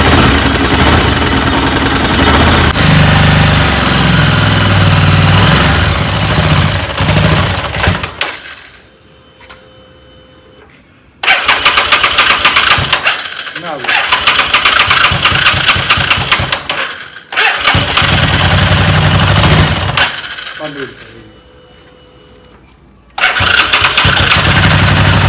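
A motorbike engine fires up and runs loudly nearby, then cuts out, and the cycle repeats several times with short silent gaps between bursts, each restart clattering back to a rough idle before stalling again.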